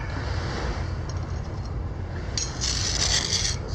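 A trowel scraping colored sand from a cave wall, a continuous close, gritty rasp, growing brighter and louder with a crisper scratch in its final second.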